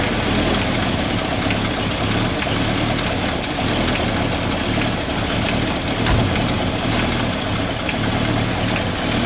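A 1954 Packard convertible's 359 cubic inch straight-eight engine idles smoothly, a loud, steady, dense rumble held close up for the whole stretch with no voices over it.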